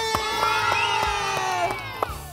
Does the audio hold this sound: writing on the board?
no